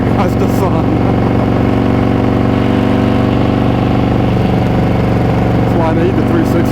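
A 2019 Harley-Davidson Road Glide Special with a 128 kit idles with a deep, steady, loud rumble throughout, a constant throbbing drone with light mechanical ticking on top.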